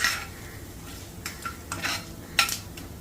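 Urad dal fries lightly in a pan over medium heat, heard as a faint, soft sizzle broken by several sharp scrapes and taps of a spoon against the pan.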